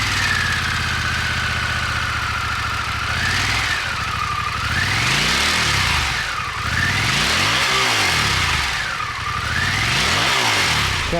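A 2022 Harley-Davidson Pan America's 1250 Revolution Max engine idles, then is revved in several rising and falling sweeps, loud and close, with no talking.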